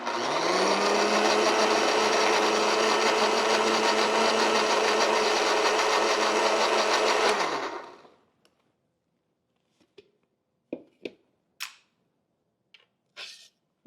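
A kitchen blender whirs loudly and steadily for about seven seconds while blending green mint (pudina) chutney, then winds down and stops, leaving a few faint clicks and taps.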